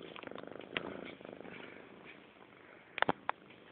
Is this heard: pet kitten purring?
yes